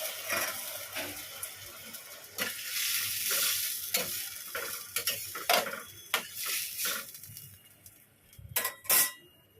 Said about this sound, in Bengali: আস্তে আস্তে ফুটুক, আলুটা সেদ্ধ হবে